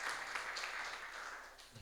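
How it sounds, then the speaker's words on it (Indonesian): A church congregation claps together during a Sunday worship service, a soft, brief burst of many hands heard from a distance, fading slightly toward the end. "Berikan tepuk tangan buat Tuhan kita."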